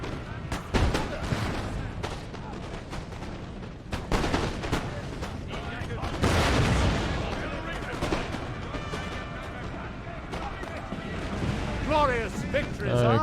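Cannon artillery in the Napoleonic-era strategy game Napoleon: Total War fires repeatedly, booming blasts and crackling volleys spread unevenly across the battle with loud crashes, mixed with shouted voices and game sounds.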